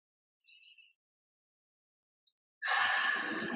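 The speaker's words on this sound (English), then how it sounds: "You take another breath." A deep breath during a guided meditation: a faint short intake, a long silent pause, then a loud, close, airy exhale that carries on to the end.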